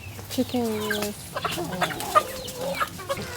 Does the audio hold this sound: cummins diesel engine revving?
no